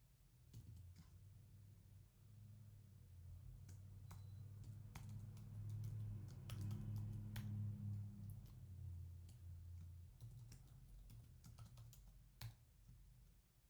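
A password is tapped out on a Mac computer keyboard, heard as quiet, irregular key clicks over a low steady hum, with no voices.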